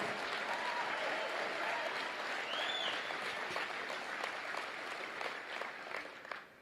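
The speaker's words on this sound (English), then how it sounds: "Give yourselves a round of applause" Sustained audience applause at a motivational speaking event fills the room at steady volume from start to finish, tapering slightly near the end, with no talk over it.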